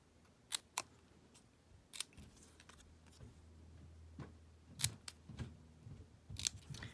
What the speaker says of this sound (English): And then I'm going to use my scissors to just banner the ends.